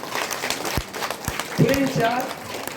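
A church congregation claps in praise, scattered hand claps rising into a looser patter while a voice calls out over it.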